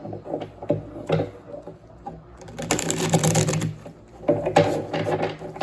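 Close, papery riffling and fluttering of playing cards being shuffled, in two bursts with light taps and handling noises between them.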